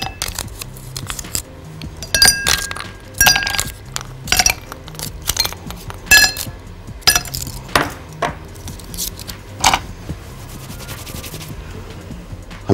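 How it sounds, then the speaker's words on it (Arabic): Ice cubes clatter into a glass, the first step of a watermelon, lemon and orange juice, with a quick run of sharp clinks and rattles, some in clusters, close and fairly loud, with no talking. "نحط ثلج"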